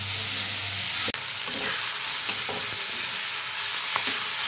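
Vegetable curry sizzling in a kadhai while being stirred, a steady close frying hiss with a few scraping clicks of the spoon.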